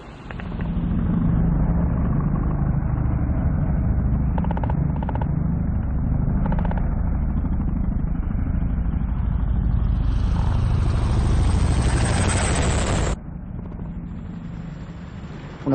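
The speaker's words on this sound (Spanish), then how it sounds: "Una operación de asalto aéreo con helicóptero Chinooks" Chinook helicopters in an air assault operation by Italian and Belgian forces thunder with a heavy, continuous rotor drone, loud and close, swelling into a brighter roar before cutting to a quieter hum.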